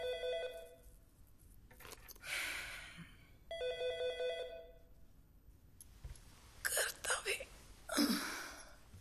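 A telephone bell rings in two long trilling bursts, fairly loud and close, with short quiet gaps; people talk and gasp between and after the rings.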